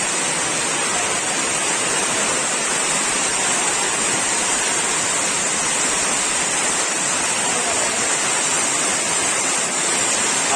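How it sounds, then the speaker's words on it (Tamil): Heavy rain pours down outdoors, a steady, dense hiss of falling water that stays loud and even throughout with no voices breaking through. "ஆஹா, மழை"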